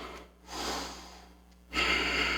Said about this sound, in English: Remember to breathe. Inhale, exhale, reach.